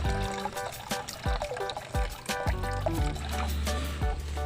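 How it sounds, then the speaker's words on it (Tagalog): Water drains out of a fish tank during a large water change, a steady trickling and pouring with gurgles, close and fairly quiet, with no voices. "Dito, nagpapalabas na ako ng tubig."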